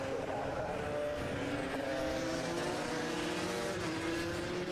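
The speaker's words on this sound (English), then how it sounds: "all of these carts, let's be honest, sounding fantastic out there" Several high-revving racing kart engines whine continuously at mid distance in slippery conditions, pitches rising and overlapping, with a steady rumbling background throughout.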